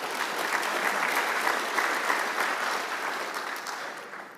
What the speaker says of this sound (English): I want to thank each and every one of you with a big round of applause from everybody